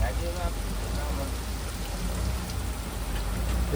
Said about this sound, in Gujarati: જો બારો કેટલો વરસાદ આવે તમે જોઈ રહ્યા છો